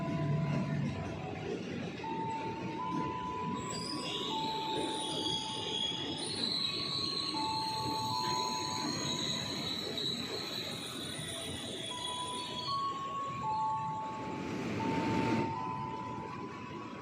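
Indonesian trains passing Matraman/Jatinegara station in Jakarta, a continuous rumble with screeching wheel squeals and tonal whines over 17 seconds, fairly close with a brief louder rush near the end.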